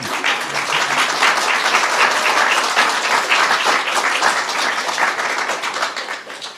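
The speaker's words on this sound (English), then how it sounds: "You may applaud." Loud, steady applause from a large crowd, dense clapping sustained throughout before tapering slightly at the end.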